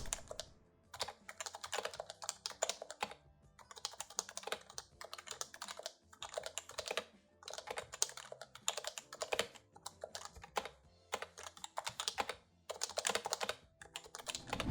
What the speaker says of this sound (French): en écrivant, ce clavier fait juste un bruit magnifique comparé à d'autres que j'ai pu tester auparavant